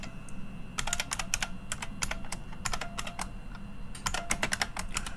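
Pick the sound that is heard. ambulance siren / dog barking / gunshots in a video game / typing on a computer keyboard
typing on a computer keyboard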